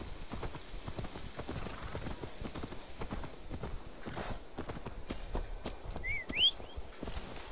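A horse's hooves clip-clop at a walking pace in the video game Assassin's Creed Valhalla, a steady close rhythm of hoof strikes with a brief bird-like chirp near the end.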